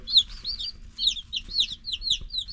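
Baby chicks in a simple homestead brooder peep in rapid, high-pitched, overlapping chirps close by, continuous throughout, over faint low rustling.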